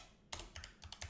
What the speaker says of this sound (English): now it is going to ask you to type the URL, and the URL would be, I'm going to type it like this